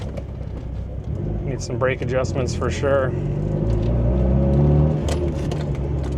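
A Mitsubishi Evo 8, previously abandoned and now idling steadily after its idle control valves were sorted, rumbles low and continuous from close by inside the car while it drives, with someone talking briefly over the engine.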